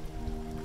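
Steady rain falling at night, a dense continuous patter on surfaces close by, even in loudness with no other sounds.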